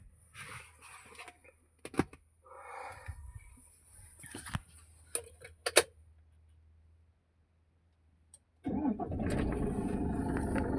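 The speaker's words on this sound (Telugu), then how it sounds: "నా బండి స్టార్ట్ చేసినాను" A vehicle engine is started after a few scattered clicks and a quiet pause, then catches and runs steadily and loudly through to the end.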